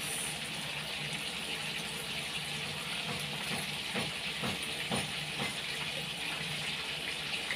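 Bean sprouts hitting a hot pan for ginisang togue with tofu, a loud continuous hiss and sizzle with crackly bursts through the middle, alone without talk.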